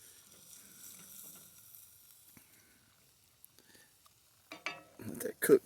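Deer heart cooking in a pan gives a faint, steady sizzle, ending in a few louder bursts of crackling and pan clatter.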